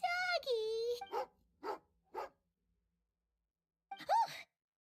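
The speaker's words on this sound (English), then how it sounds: "Oh, a doggy." Tagarin the dog in the video game Genshin Impact, a few short barks and growly vocalizations, close and clear, separated by silence after a spoken voice at the start.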